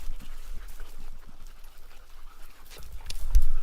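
Hunting dogs pant on a lion trail in remote desert country, rapid close breathing in quick bursts, with rustling movement and a louder thump near the end.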